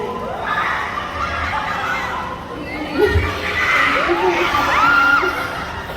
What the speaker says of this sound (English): do you hear what your fans are saying? Can you understand? I know they're yelling